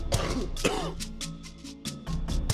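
A few sharp coughs and throat-clearing bursts up close, short and rough, separated by brief pauses.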